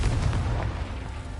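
A Confringo blasting spell goes off in Hogwarts Legacy, a deep rumbling boom that fills the whole moment with low, heavy energy before fading slightly, with no voices over it.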